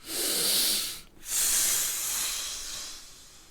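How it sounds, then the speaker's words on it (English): A deep, full breath pushed out to empty the lungs during guided breathing, a close airy hiss that breaks briefly and then resumes, fading slowly. "we're going to take a deep, full breath out, completely clear your lungs"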